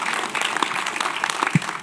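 Audience applause at a documentary film Q&A during the DOC NYC 2022 festival: a short, dense burst of clapping from a crowd, steady and fairly close, with no talking over it.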